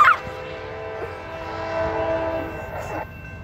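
Two-engine CSX rock train in Folkston, Georgia, passing with a sustained, tonal horn blast sounding from fairly close by and then cutting off, over a low rumble of rolling wagons.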